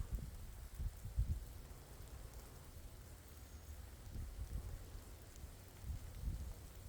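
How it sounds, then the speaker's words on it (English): Rain patters steadily onto a tree and leaves overhead, faint and soft with occasional louder drips and low rumbles, no talking. "I'm under a tree because some of the raindrops are still coming through"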